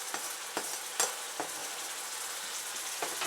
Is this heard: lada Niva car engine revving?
no